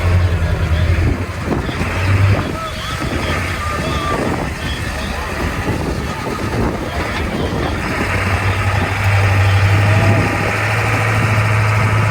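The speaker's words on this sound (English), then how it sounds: "Heavy old engine." A heavy engine idles with a deep, steady rumble and vibration while people talk over it close by.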